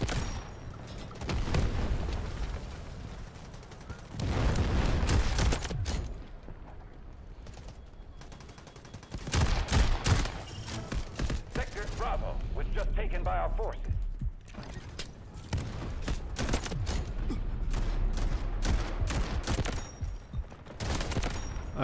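Gunfire in the shooter video game Delta Force, with shotgun blasts and other weapon fire crackling over a busy, dense game soundscape throughout, with a player talking at times.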